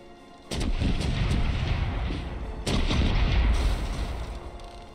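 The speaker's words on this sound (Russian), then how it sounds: "Пушки по левому борту." Heavy ship cannon fire in the video game Corsairs Legacy booms out in two rolling volleys, deep rumbling blasts with echoing tails, loud and continuous throughout.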